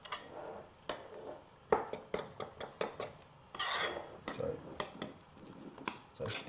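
Egg yolks, cream and grated parmesan whisked together in a bowl: a string of quick metallic clinks and scrapes against the bowl, irregular and close, with brief quiet gaps between strokes.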